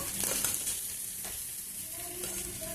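Oil heating on a stove for a tamarind pickle chutney, sizzling and crackling with occasional stirring at a moderate, steady level.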